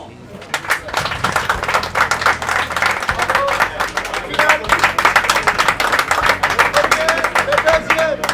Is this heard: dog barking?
no